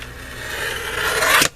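Scissors trimming around the edge of a paper money card, a close, loud continuous rasping cut that swells and then stops abruptly.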